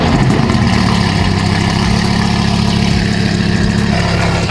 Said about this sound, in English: Remy, start up your engine.